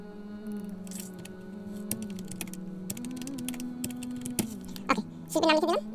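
Computer keyboard typing an artist's name, with scattered close key clicks in an irregular rhythm over a steady low electronic hum.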